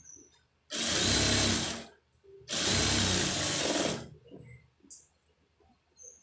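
A domestic sewing machine runs long basting stitches on a blouse lining in two loud, steady bursts of about one and a half seconds each, separated by a short pause, with faint handling sounds in between.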